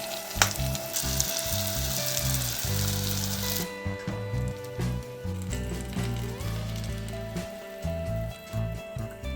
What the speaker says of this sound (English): I'm now caramelizing some apples. Adding a big scoop of vegan butter